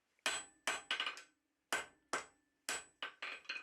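A blacksmith hammers a hot steel bar while forging small scroll tongs, sharp ringing blows landing in quick pairs and triples with short pauses between, close and loud.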